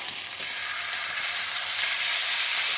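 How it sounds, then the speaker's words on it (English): Oyster flavored sauce sizzles steadily in a pan with sparerib tips, a continuous bright frying hiss with no talking. "I'm going to go ahead and add some of that oyster flavored sauce right into the pan there."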